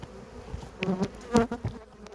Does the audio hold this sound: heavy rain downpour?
no